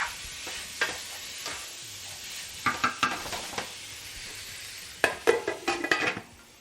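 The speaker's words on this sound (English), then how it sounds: "While our meat is cooking" Assorted meat for a stew cooks in a pot over medium heat, with a soft sizzle running throughout and metal utensils stirring and clinking against the pot in bursts, heard close up.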